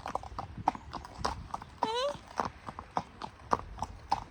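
A spooked horse in a field at an equestrian yard, with close, uneven hooves clip-clopping and a brief whinny partway through, over light background noise.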